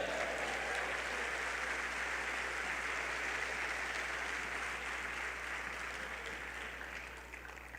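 A church congregation applauds steadily throughout, a dense wash of many hands clapping at constant loudness that eases off slightly at the end, with no talk over it.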